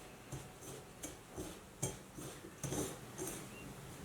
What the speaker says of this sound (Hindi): अब हम इसको फिर से मिक्स करते हैं।